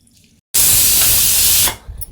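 Water gushes steadily into a container of chutney batter for just over a second, a loud close hiss that starts abruptly and tapers off, with faint sounds before and after.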